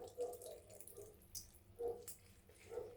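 Water squeezed by hand out of chopped cabbage for homemade dumplings, heard as a few faint, brief trickles and drips over about three seconds, with no talk.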